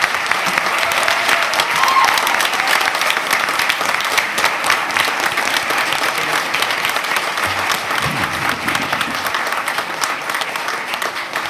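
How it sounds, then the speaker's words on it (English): A board meeting audience gives a long, steady round of applause, dense clapping filling the room at an even level for more than ten seconds with no break. "let's give these very worthy individuals a round of applause."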